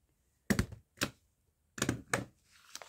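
A stapler driving staples through a folded paper booklet, giving several sharp, close thunks in two quick pairs with short pauses between them and no talking.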